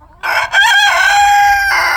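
A rooster crows loudly and close by, one long strained call held for well over a second.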